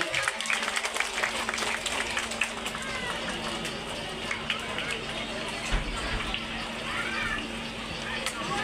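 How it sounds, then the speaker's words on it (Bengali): Children clap at a school winter-clothes distribution event, a dense sustained patter of applause from a crowd of kids, close and lively, with a steady hum underneath. "বাচ্চারা জোরে একটা করতালি দিবে।"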